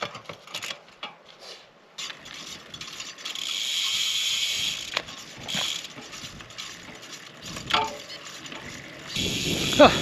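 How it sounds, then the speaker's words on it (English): A gravel bike's wheel spun by hand to check the drivetrain for misalignment after a loose through axle, giving a soft whirring ticking hum with scattered clicks and knocks nearby, fairly quiet. "I'm going to pop the bike over, take the wheel off, give it all a spin, see if anything's misaligned"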